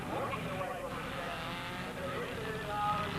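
Race cars roar around a track with a continuous loud engine drone that rises slightly toward the end, heard under excited commentary.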